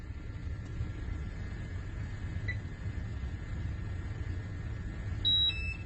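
A faint electronic air quality monitor alarm chirps in short high beeps, mostly near the end, over a low steady rumble.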